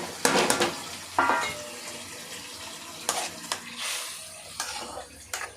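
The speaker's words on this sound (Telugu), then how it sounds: "మరిగిపోతుంది చూసారా" Fried okra added to a boiling curd gravy, heard as sharp splashes and bubbling bursts that come in irregular clusters over a low simmering background, close and moderately loud, with no talking.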